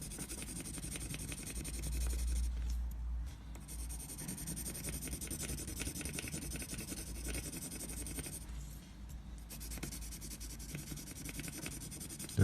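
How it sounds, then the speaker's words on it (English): A pencil rubs steadily across the back of a sheet of paper, shading it with a continuous close scratchy texture and short pauses between strokes. "you need a pencil and sketch the back"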